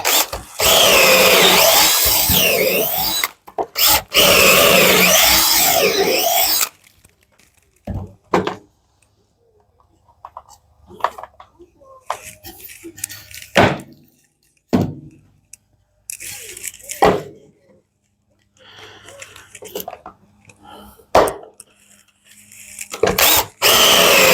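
A power drill whines loudly through wood drilling pocket holes in a long burst, then shorter bursts follow between quiet pauses, with brief talk.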